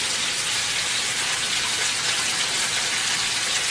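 Water from a tap runs steadily into a saucepan set over medium-high heat for stuffing, a constant broadband splashing rush with no break, close and fairly loud, no talking.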